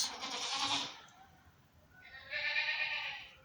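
Two loud, drawn-out bleats from a purebred Alpine goat buck, one at the start and another after a short pause, close and fairly clear.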